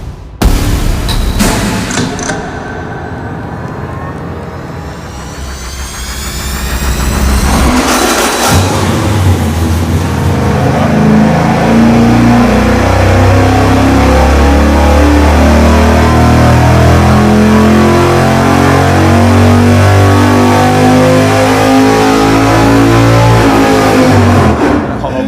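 A V8 with a hydraulic roller camshaft roars through a dyno pull aimed at 600 horsepower, the loud engine note climbing steadily for about fifteen seconds after a brief lower-pitched stretch at the start.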